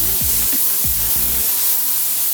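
Steady, close, broadband hiss of a paint spray gun laying a wet coat on a lowrider, continuous throughout with a few faint low mechanical blips underneath.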